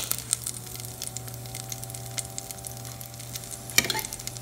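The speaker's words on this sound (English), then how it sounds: "Once butter melts, I'm adding almonds" Almonds fry in melted butter in a hot pot with a faint, steady sizzle and occasional stirring scrapes, plus a louder stir near the end over a low electrical hum.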